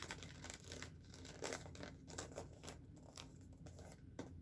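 Gift wrapping paper being folded and creased by hand, with soft, close crinkles and rustles in irregular bursts, faint and without talk.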